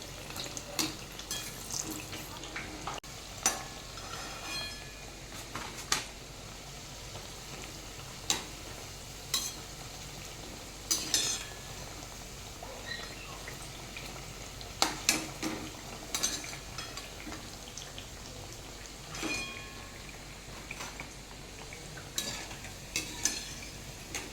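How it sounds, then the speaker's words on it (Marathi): Green chickpea vadas fry in a pan as both sides brown, with a soft, steady sizzle and occasional clinks and scrapes of a utensil against the pan, close but fairly quiet, with no voices. "आपण याला आता दोन्ही साइडनं भाजून घेऊ। छान लालसर झाल्यानंतर याला आपण"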